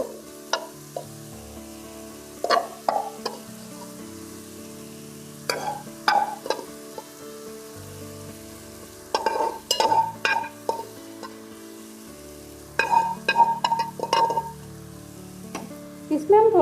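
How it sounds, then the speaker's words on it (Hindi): Chicken frying with dal in a pan sizzles steadily while a spoon stirs and scrapes in repeated bursts, with occasional clinks of metal against the pan. "अब हम इसमें ऐड करेंगे ये दाल को।"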